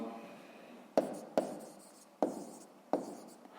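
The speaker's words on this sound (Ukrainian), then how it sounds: "пишемо відповідь" A pen writes out the answer to a sixth-grade maths exercise on paper, four short, quiet taps and scratches set apart in a hushed room.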